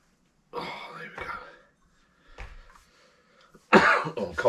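A person coughs up close in several short bursts, with brief pauses between them.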